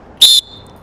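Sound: pealess sports whistle blown, Fox 40

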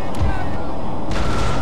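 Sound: cannon fire in video game Empire Total War

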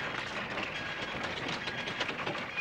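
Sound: train

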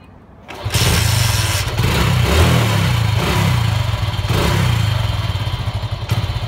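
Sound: motorcycle engine starting and revving

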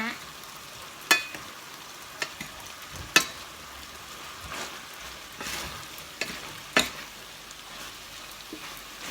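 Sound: stir-frying Chinese kale with fatty beef

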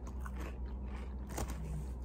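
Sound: biting into a crunchy snack

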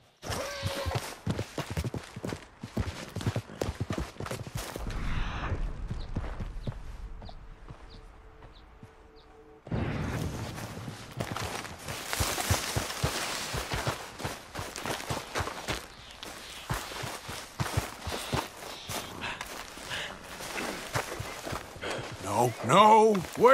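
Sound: horse galloping in a video game

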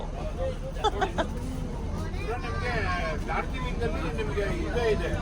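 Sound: diesel engine of Ooty train

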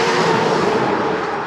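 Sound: cars driving by

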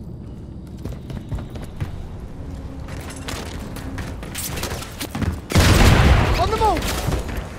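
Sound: enemy gunfire in Call of Duty video game

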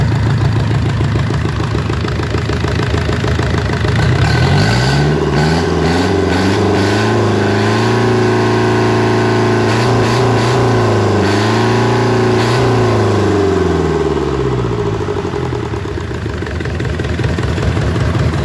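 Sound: Yanmar diesel engine running smoothly

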